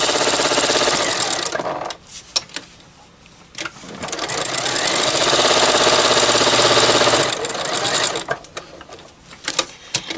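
A sewing machine back stitching a seam on a fabric bowl, loud close whirring in two long runs broken by a quieter pause with scattered clicks.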